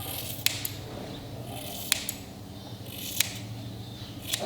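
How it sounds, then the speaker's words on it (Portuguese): Hair being cut short with scissors at home while following the contour of the head, a few soft, crisp snips spaced roughly a second apart over a low background hum. "aqui eu vou seguindo o contorno da cabeça, tentando cortar curto."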